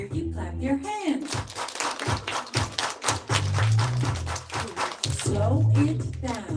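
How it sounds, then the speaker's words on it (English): Children at a school gathering clapping hands in quick rhythmic bursts of sharp claps, mixed with stomping thuds and talking voices. "Let me hear you clap your hands."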